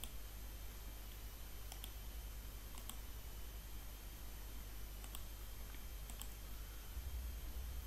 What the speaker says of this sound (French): Je clique sur commit. Puis je clique sur push.